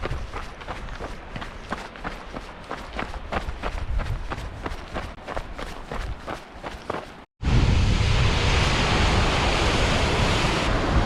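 A Grand Canyon waterfall gives a steady, loud, broadband rushing roar that starts abruptly after several seconds of rhythmic running footsteps and breathing on a trail.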